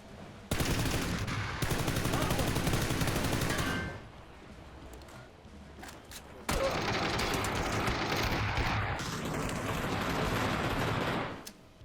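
Sustained bursts of gunfire in the game PUBG as players shoot out car tires, with loud rapid volleys for several seconds, a brief lull with scattered shots, then another long stretch of firing.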